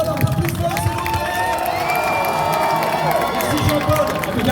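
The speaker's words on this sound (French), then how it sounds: "On applaudit encore Jean-Paul, un peu plus fort s'il vous plaît." Festival crowd applauding and cheering continuously at a Japanese culture and TV theme party, a dense wash of clapping and voices filling the whole stretch without pause.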